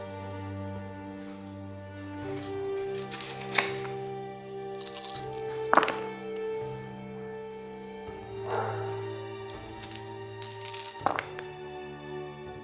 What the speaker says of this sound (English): One Stug has line of sight and uses opportunity fire.